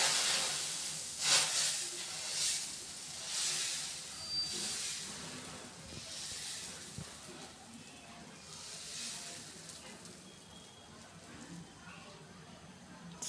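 Dosa batter hits a hot griddle and sizzles with a steady, close hiss that swells and eases in waves, then settles to a softer, continuous crackle.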